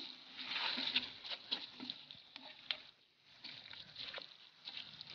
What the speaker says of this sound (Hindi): तमाम मसाले अब मैं इसको अच्छी तरह से मिक्स कर लूंगी